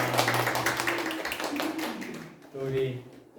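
Brief, light clapping from a church congregation at a Sunday service, mixed under speech and fading after about two seconds.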